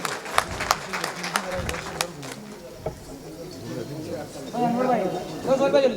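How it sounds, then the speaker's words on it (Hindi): Scattered clapping breaks out among the audience at a mushaira poetry gathering in Warud, with sharp individual claps early that thin out, then a voice speaks over crowd murmur. "जोरदार तालियां बजाइए दोस्तों।"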